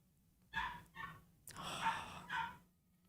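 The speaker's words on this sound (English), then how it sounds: "They're barking. They're barking. Ruff, ruff, ruff." Dogs barking in a live chess stream, with several separate barks and yips heard close and fairly faint, spaced irregularly over a few seconds with no talking.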